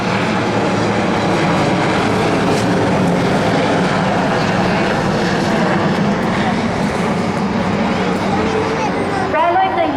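UH-3H helicopters flying past at a Navy Day rehearsal in 2016, a loud continuous engine and rotor roar with steady rumble throughout, while a commentator speaks over it.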